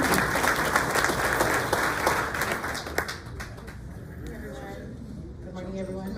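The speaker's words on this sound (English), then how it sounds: "Let's give her a round of applause." Audience applause at a graduation ceremony, many hands clapping in a dense, loud burst that thins out after about three seconds into scattered claps, with voices murmuring underneath.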